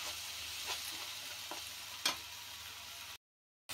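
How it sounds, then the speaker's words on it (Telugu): Tomato puree frying in a pan and being stirred, a soft continuous sizzle with a few scraping strokes of the spoon, close and fairly quiet, stopping abruptly before the end. "టమోటా కూడా పచ్చి వాసన పోయేదాకా మనం ఫ్రై చేసేసుకున్నాం కదా"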